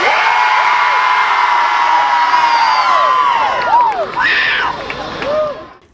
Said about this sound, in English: students gather to support their team by cheering and getting everyone hyped for the game